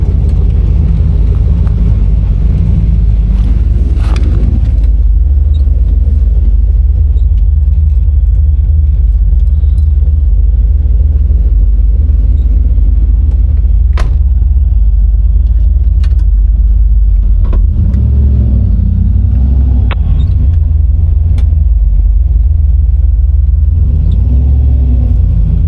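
Car with a 4L85E transmission and column shift driving on a road, heard from inside: a loud, steady engine rumble with road noise throughout, small rattles and jingles on top, no talk.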